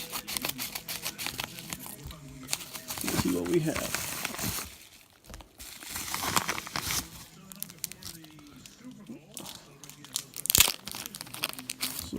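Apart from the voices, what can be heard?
opening mail package with scissors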